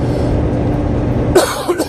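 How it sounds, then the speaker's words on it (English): A single short, dry cough near the end, after a stretch of low background rumble. "It's just a cough, just a dry mouth cough."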